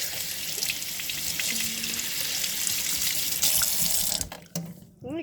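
Tap water runs steadily into a sink while makeup brushes are washed, a continuous hiss and splash that cuts off near the end, leaving brief handling noises.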